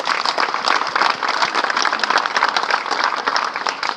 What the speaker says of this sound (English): So I want a round of applause to my mom and to my brothers that do that for them